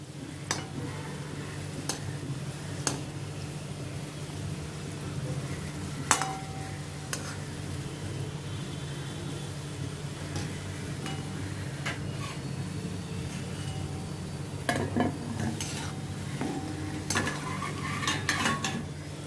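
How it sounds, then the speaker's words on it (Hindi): Stuffed kachoris frying in hot oil, a low steady bubbling sizzle with occasional light metal clinks of a slotted spoon against the pan, close and fairly quiet, no voices. "इसी तरह से मैं बाकी की सब में फ्राई कर लेती हूँ।"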